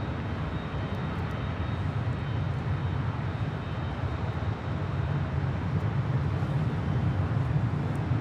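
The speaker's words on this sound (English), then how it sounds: "That is Delta 531 departing to Detroit on a 757-300." A Delta Boeing 757-300 taking off at Los Angeles International Airport, its jet engines giving a steady, heavy low roar with broadband rumble that holds constant throughout, heard alone without talk.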